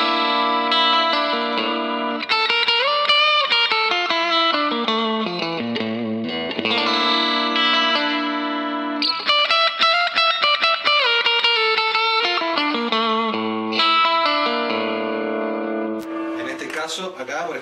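Squier Stratocaster electric guitar from Korea, 1996 50th anniversary model, played on its middle pickup: sustained chords and ringing notes with chorus-like shimmer, loud and continuous without talk.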